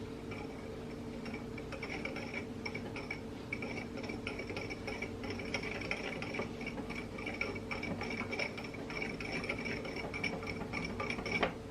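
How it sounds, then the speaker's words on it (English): A whisk clinks rapidly and steadily against a bowl while mixing dry sugar, cinnamon, salt, ginger and nutmeg for a pumpkin spice cake, a light, even ticking close by with no voices. "Now I'm going to take my whisk and just whisk this up until it's completely combined"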